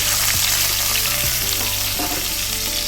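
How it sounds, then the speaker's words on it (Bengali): Chopped onion sizzles loudly in hot oil in a wok, a close, continuous crackle with a few scraping stirs over its short span. "একটু কড়াইতে তেল দিয়ে পেঁয়াজ কুচি দিয়ে দিলাম"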